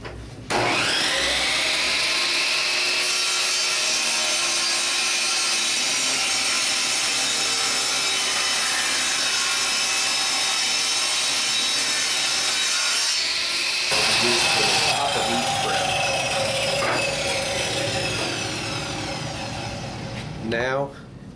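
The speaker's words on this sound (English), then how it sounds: "Now we've got it here at the table saw. We're gonna rip it into 3 pieces that are 1 inch wide." A table saw rips a wooden board into narrow one-inch strips, a loud, sustained whine and cutting roar that dips and changes pitch partway through as a new pass begins, with talking heard underneath.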